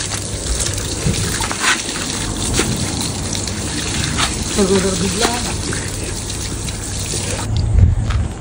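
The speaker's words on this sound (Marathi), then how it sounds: "आता इथं तासभर फिरून एक प्लांट शोधला आहे पाण्याचा" Water gushes continuously from a tap at a public drinking-water plant, a loud, splashing stream with brief faint voices in the background.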